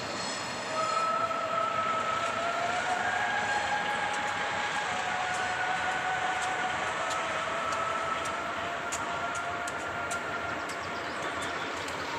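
A train rolls steadily along the tracks at Paranapiacaba with a continuous rumble, while high metallic wheel squeals come and go over it.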